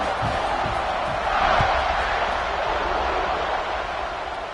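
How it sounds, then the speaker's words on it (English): Stadium crowd noise in the College Football 26 video game during a Georgia versus LSU matchup: a steady, loud roar of a large crowd that swells briefly, with a few muffled thumps beneath it. "You think this crowd's going to get loud when their defense comes on the field?"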